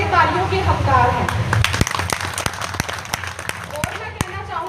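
Applause for a grandfather at a village gathering about building a cowshed, a crowd clapping with sharp scattered hand claps that thin into separate loud claps, with voices underneath.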